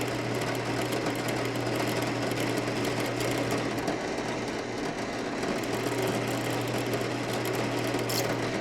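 A drill whines in a continuous, strained high-pitched grind as the bit labors in the cut, with a steady hum underneath, close and unbroken throughout.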